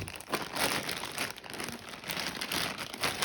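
A plastic mail package wrapped in tape is handled close by, giving a continuous rustling crinkle with no pauses.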